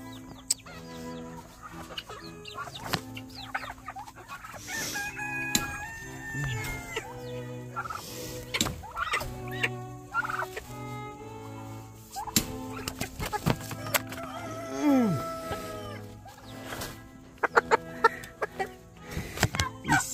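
Chickens and turkeys on a homestead, with gobbling turkeys, clucking hens and a rooster crowing, calls overlapping in irregular bursts at close range, along with scattered knocks and clatter.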